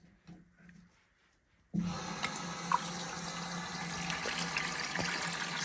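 Water gushes from the drain valve of an iron-treatment contact tank in a water system, starting abruptly after a quiet lead-in and then rushing steadily and loudly, close by, with no voices.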